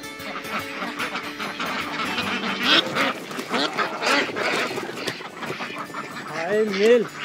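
Ducks, including a male, quack repeatedly at a government duck breeding centre in Maharashtra. The calls are loud, close and overlapping in an irregular stream, with a voice heard among them.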